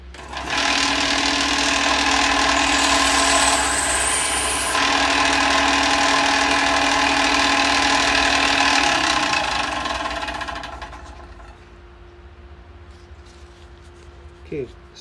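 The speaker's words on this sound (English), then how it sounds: "a quick run on the belt sander to straighten up the teeth" A belt sander grinds steadily and loudly for about ten seconds while the teeth of a small wooden rake for a mini zen garden are straightened, then it cuts off and leaves a quieter hum.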